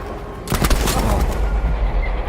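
A loud close burst of rapid gunfire and explosive thuds erupts during a Panzer tank attack in the World War II shooter Battlefield V, over a low rumbling battlefield background.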